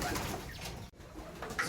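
Barn pigeons give soft, low cooing calls, faint and close in a brief stretch with no talking.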